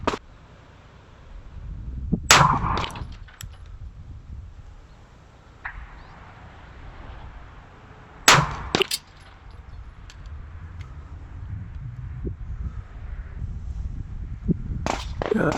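Rifle shots fired at 100 yards in gusty wind, three sharp loud cracks spaced several seconds apart, each followed by a brief ringing, over a constant low rush of wind buffeting the microphone.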